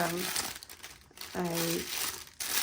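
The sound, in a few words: putting food into a bag, bag crinkling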